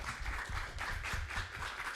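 An audience at a library festival opening breaks into sustained applause, a dense, even wash of clapping that carries on steadily without a break.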